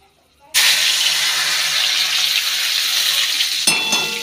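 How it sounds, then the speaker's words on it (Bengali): Damp, freshly washed cumin seeds drop into hot oil in a home kitchen pan and burst into a loud, hissing sizzle that starts abruptly and holds steady, then briefly crackles and flares near the end. "তো এখন তেলের মধ্যে দিয়ে দেব জিরে"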